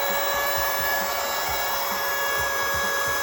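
A loud, constant electric air pump drones steadily, with a rhythmic low pulsing underneath as air is pushed into an inflatable mattress.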